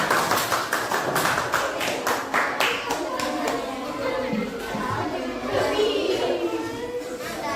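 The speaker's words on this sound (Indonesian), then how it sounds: "Berikan tepuk tangan untuk semuanya." Children in a classroom clap together in a quick rhythmic burst that fades after a few seconds, followed by the chatter of young voices and an adult speaking over the room.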